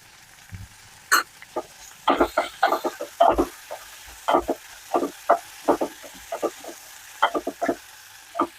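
Tomato and mint frying in a pan for egg biryani, with bursts of spoon stirring and scraping in uneven clusters over a faint sizzle, close and without talk.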